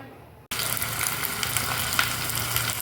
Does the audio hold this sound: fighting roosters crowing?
no